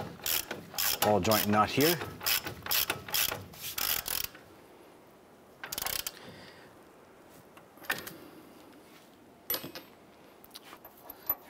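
A ratchet fitted with a 22 mm socket tightens the upper ball joint nut on a 2011-2018 Ram 1500 steering knuckle, a close, loud burst of clicking early on followed by quieter clicks and brief mechanical handling noises.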